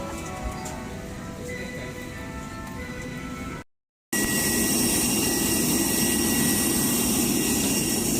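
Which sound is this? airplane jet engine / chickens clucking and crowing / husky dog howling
airplane jet engine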